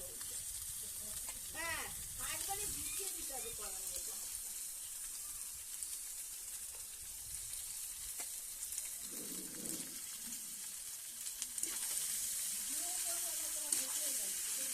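Leftover day-old rice frying in a hot pan, a steady sizzling hiss running throughout with occasional stirring scrapes, while someone talks over it now and then.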